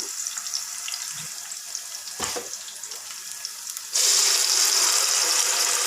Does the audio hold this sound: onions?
yes